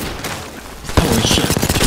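Gunfire from a weapon in the video game Apex Legends: a short pause, then a loud close burst of rapid automatic shots rattling on without a break.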